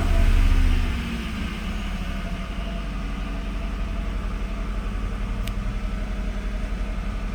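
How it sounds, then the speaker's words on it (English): A 1991 Acura NSX engine cranks and catches with a loud burst in the first second, then settles into a steady, even idle that runs close and continuous, with a brief sharp tick partway through. "Now I'm going to start this car up for you."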